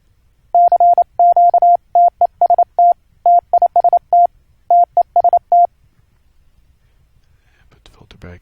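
Unfiltered Morse code tones from a software receiver setup for an internet QSO: a steady pitched beep keyed in dots and dashes for about five seconds, loud and clean, then a faint murmur of voice near the end.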